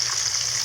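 Chicken seasoned only with salt frying in hot oil, giving a constant bright, hissing sizzle that stays close and steady throughout.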